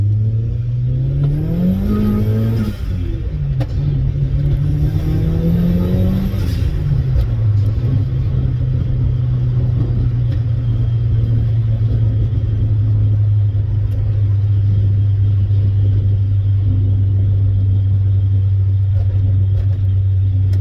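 A turbocharged Mazda Miata engine revs hard through rising pulls with a gear change, then settles into a loud, steady droning cruise heard from inside the car.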